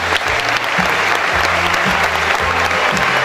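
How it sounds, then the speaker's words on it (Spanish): Applause from an audience at a school flag-bearer ceremony in Bragado, a steady wash of clapping under a speaker's continuous voice and a low musical drone. "El aplauso entonces para recibirlo."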